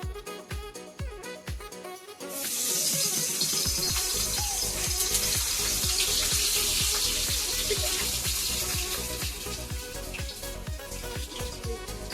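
Chicken pieces drop one after another into hot oil in a kadai, setting off a loud, steady sizzle and crackle that swells and persists close by.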